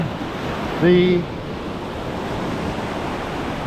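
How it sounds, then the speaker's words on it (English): Ocean surf breaks on a sandbar in a steady, noisy wash with some wind, and a voice is briefly heard near the start. "So the bar is now taking more energy out of those waves that are coming in, and they're breaking a little bit harder on that bar."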